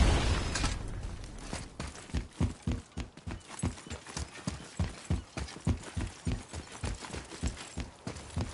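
Rhythmic clip-clop of a horse's hooves in the game God of War, a steady walking gait of evenly spaced, fairly close thuds that continues throughout over a low ambient rumble.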